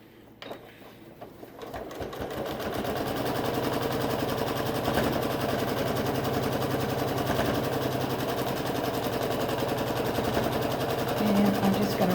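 A sewing machine runs steadily, top stitching a beginner nine-patch quilt, its fast even needle chatter holding close and loud for several seconds without pause.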